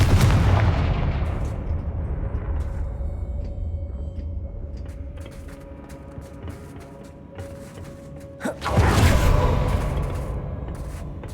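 A Confringo fire spell in Hogwarts Legacy on PC lands with a deep booming blast, followed by a rumbling decay, then a second sharp burst near the end.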